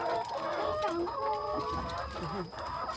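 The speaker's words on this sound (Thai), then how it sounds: "เร็วแล้วพี่กุ๊กไก่จะไข่อีกแล้วนี่" A hen clucks repeatedly up close in short, uneven bursts, with soft background noise and no talking.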